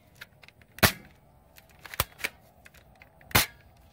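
A spring-powered AR15-style airsoft rifle fires single shots outdoors: three sharp cracks about a second apart, the first and last loudest, with faint handling clicks and rustles between them and no talk.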